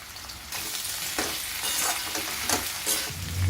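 Potato and okra stir-frying in an open pan, a loud, steady sizzle broken by repeated scraping stirs, close up and without talk.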